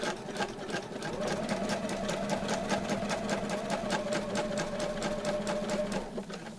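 A sewing machine stitching fabric, rapid even clatter of the needle running for several seconds at a steady pace before slowing at the end, moderately close and on its own.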